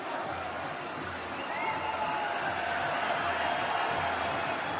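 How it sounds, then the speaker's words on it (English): A stadium crowd at an international football friendly between Wales and Brazil keeps up a loud, sustained roar of chanting, with a commentator talking over it. "It's frustrating when you hear the crowd doing the holays"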